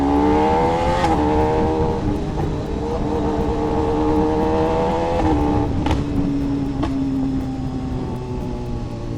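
A BMW S1000RR superbike engine revs hard nearby, its loud, harmonic whine climbing and dropping in repeated throttle blips with sharp gear-change breaks, steady and dominant throughout.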